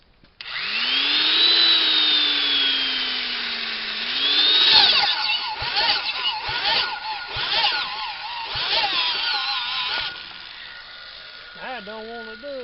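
An old electric drill spins to crank over a small engine, a loud, steady whirring whine that rises and holds for about ten seconds before stopping, followed by a short low rumble near the end.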